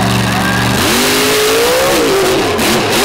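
A monster truck engine at a 2023 Monsters 'n' Megas show roars loud and steady as the truck attempts a backflip on a flat right rear tire, its pitch climbing and wavering through the revs.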